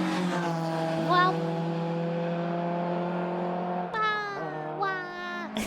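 Two-stroke engine played back on a recording, a steady buzzing drone with strong harmonics and a few rising revs, heard alongside a voice reacting over it.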